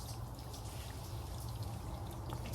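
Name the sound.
water poured into Subaru WRX cooling system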